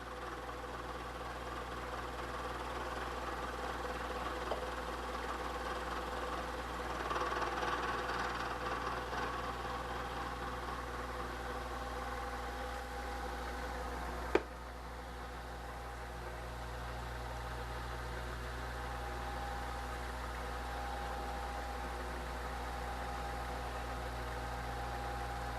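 Milling machine fly cutter taking a hand-fed pass across a part held in a vise, a low steady motor hum with a faint rhythmic cutting whir, one sharp click partway through, no talking.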